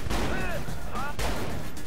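Gunshots in the video game Saints Row: The Third, a few loud, close blasts spread over a couple of seconds against dense, noisy game sound.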